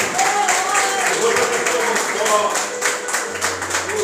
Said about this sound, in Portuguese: E graças a Deus, aplauda Ele. Aplauda Jesus.